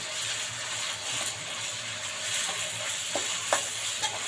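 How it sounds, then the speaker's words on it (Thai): Thai curry paste being stir-fried in a pan for catfish red curry, a continuous soft sizzle with scraping and stirring clicks of the utensil, a few sharper taps near the end, close and steady with no voices. "ใส่พริกแกงเราลงไปผัดเลยนะคะ"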